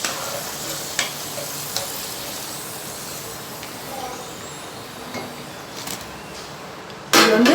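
French fries deep-frying in hot oil give a steady, soft sizzling hiss throughout, with a few faint clinks and taps, then a louder burst of crackling near the end.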